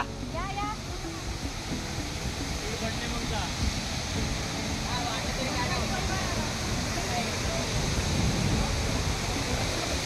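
Water rushes loudly and continuously under rising pressure at a waterfall stream on the Kaas Plateau, a dense unbroken roar close by, with voices speaking faintly beneath it.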